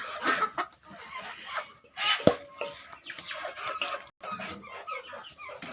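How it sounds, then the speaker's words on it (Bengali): Several farm chickens cluck in short, irregular bursts close by, with scattered scratching and rustling between calls and no voices. "এই মুরগিগুলো কত সুন্দর"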